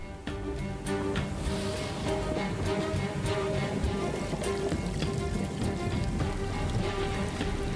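Sudden heavy rain over the Grand Canyon pounds down in a loud, dense, unbroken roar of drops striking surfaces, close and constant from start to finish, with no talk.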